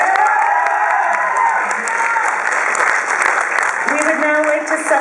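Sustained applause from an audience at a science graduation ceremony, a dense, steady clatter of many hands filling the hall throughout, with some crowd noise and voices mixed in.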